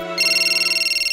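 A cartoon telephone rings with a bright, electronic ringtone warble that starts after a brief lead-in and repeats in rapid, even pulses, loud and close, with no talking over it.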